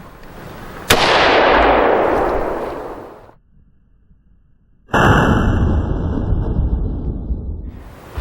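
Two loud, booming AR-15 rifle shots fired through a Titan muzzle brake at a SHOT Show 2017 brake test, each a sharp crack trailing into a long rolling echo, with a brief quiet gap between them.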